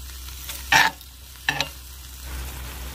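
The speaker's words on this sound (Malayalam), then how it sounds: "ഇനി ഇതൊന്ന് നന്നായിട്ട് മിക്സ് ചെയ്യാം." A spoon scrapes twice through chana dal curry in a pan, two short, fairly close stirring strokes separated by a quiet pause with a low steady background hum.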